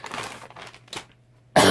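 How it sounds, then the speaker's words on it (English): A short, harsh cough bursts out at the end of a craft-supply unboxing, after a stretch of quiet rustling and faint handling noises at close range. "we're going to try and get through this unboxing without coughing all over everything"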